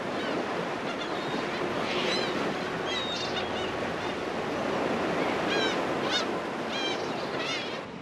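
Heavy sea swell and breaking waves surge around a fishing boat out at sea, a steady loud wash of water and wind with faint high bird calls over it.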